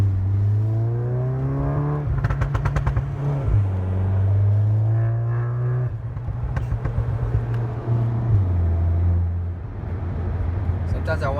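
A modified Volkswagen GTI MK7 engine drones steadily through gear changes, with its pitch dropping on downshifts and short crackling pops, heard from inside the car under continuous talk.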